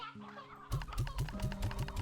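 Stony hens in Slime Rancher 2 clucking in a steady run of short, repeated game-sound clucks after a quiet start, fairly loud and alone with no talk.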